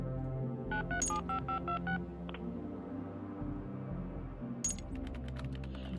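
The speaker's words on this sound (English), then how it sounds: "Call Krut from your phone." Touch-tone phone dialing in the video game Justice.exe: a quick run of about five close, clear keypad beeps, then a single tone, and later another burst of beeps, all over a steady low background music bed.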